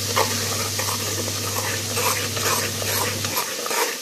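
Turmeric being stirred into curry in a pan, a steady close scraping and soft sizzling with a constant low hum underneath that cuts out near the end.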